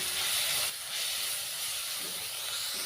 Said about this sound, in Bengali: এরপর আমরা মশলাটিকে খুব ভালোভাবে কষিয়ে নেব।